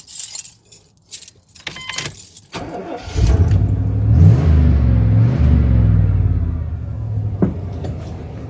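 A V8 car engine with misfiring cylinders: a brief jangle of keys, then the engine cranks, catches and runs loud and steady at close range, revving slightly, with no talk.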